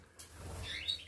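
Goldfinches and canaries in an aviary give faint, high chirps, with a brief twittering call near the end over a quiet room.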